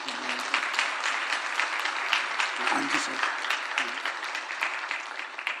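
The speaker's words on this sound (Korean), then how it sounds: "무슨 이유인지는 모르지만 한번 박수 한번 해주실래요?" Church congregation applauding a couple standing during a service, dense steady clapping throughout, with a brief spoken word near the end.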